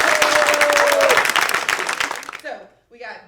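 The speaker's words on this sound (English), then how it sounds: "Applaud for me!" Crowd applause and cheering from marching band members after their band director's boast, loud at first, then thinning out as voices talk over the tail.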